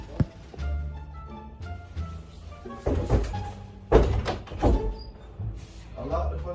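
A locked door being handled during a prank, with loud knocks, rattles and thumps from the door and latch coming in bursts, mixed with voices talking over the noise.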